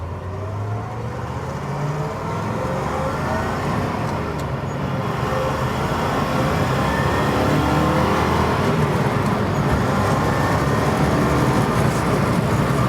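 A 1964 Corvette fuel-injection coupe drives and accelerates on a road, its engine a steady, rising drone heard from inside the car, loud and continuous with no talk.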